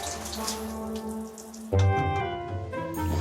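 A campsite shower in the Aude countryside runs with low pressure, a thin steady stream of water splashing nearby that grows fuller and louder partway through, with no talking.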